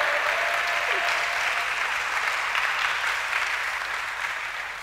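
Congregation at a church seminar applauding God, dense sustained clapping from a large crowd that fills the room and fades slightly toward the end.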